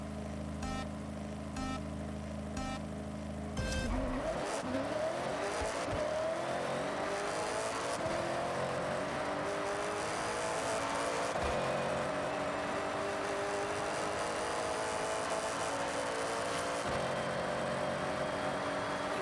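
A 1996 Subaru SVX drag launch in Forza Horizon: the engine idles and revs against the handbrake, then roars off the line, shifting up through the gears as a loud, sustained acceleration pulls away.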